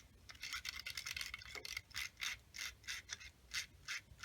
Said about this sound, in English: I'm just going to take a little sandpaper and kind of brush that spring a little